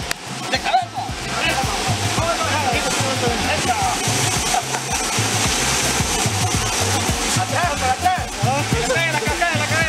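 A waterfall at the La Sirena spa in Veracruz pours steadily onto a bather's head, a continuous loud rush and splash under constant talk from people nearby.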